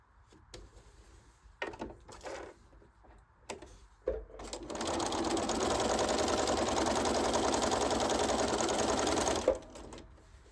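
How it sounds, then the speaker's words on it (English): A sewing machine stitches the shoulder seams of a lined bodice in one steady, continuous run of about five seconds, loud and close, preceded by a few short bursts and handling knocks. "So I'm going to sew my shoulders."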